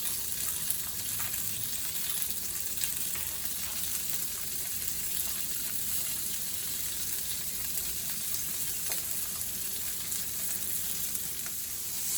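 Asparagus frying in a hot pan, a steady bright sizzle running unbroken and close throughout with faint stirring clicks and no voices.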